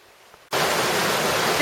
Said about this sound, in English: This is the muddy river.